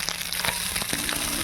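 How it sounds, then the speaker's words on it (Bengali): Fish frying in hot oil in a home kitchen, a dense, steady sizzle and crackle close by, with a few sharper pops and no talking. "মাছটা ভাজছি।"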